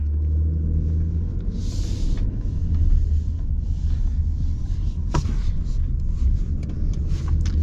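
A 2025 Ram 1500 Limited Off-Road pickup with the high-output Hurricane engine drives along in two-wheel drive, a loud steady cabin rumble with low throbbing and a few faint clicks on top.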